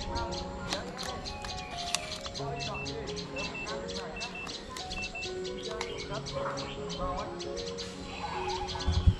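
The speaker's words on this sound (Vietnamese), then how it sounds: "Đây, cái đồ chim sâu bên kia nhé." Outdoors, a flowerpecker and other birds give dense, rapid chirps and high tweets that carry on the whole time, overlapping in a busy chorus at moderate distance, with a voice talking underneath.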